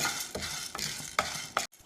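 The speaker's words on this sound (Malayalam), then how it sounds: "കടലപ്പരിപ്പും ഇതേമാതിരി ലോ ഫ്ലെയിമിൽ ഇട്ടിട്ട് നന്നായിട്ട് വറുത്തെടുക്കണം" Dry chana dal is roasted over a low flame in a hot pan, giving a soft continuous sizzle with regular scraping strokes of a spoon.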